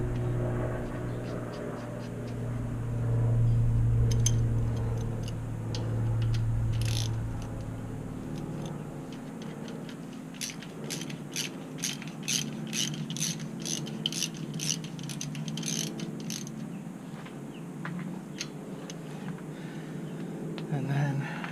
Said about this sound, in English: We'll put our drain plug back in.